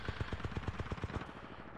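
An automatic pistol fires in Titanfall 2 gameplay as a rapid, evenly spaced burst of about a dozen punchy shots that stops abruptly, fairly quiet in the mix with no talking over it.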